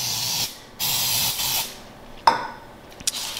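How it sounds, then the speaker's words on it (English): A loaf pan for pumpkin bread gets sprayed with cooking spray: a short hiss and then a longer, steady pressurized burst, followed by a few sharp clicks and taps of the can and pan nearby. "I always spray the pan itself."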